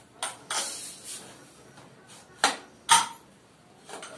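A pressure cooker lid is opened after cooking chicken biryani: a handful of sharp metallic clanks and knocks, spaced irregularly, close and fairly loud over a quiet kitchen background.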